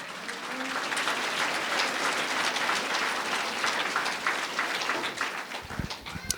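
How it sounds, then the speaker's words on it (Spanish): Loud, sustained applause from a church congregation at a baptism fills the whole stretch, dense clapping without a break. "Fuerte aplausos a Cristo Jesús."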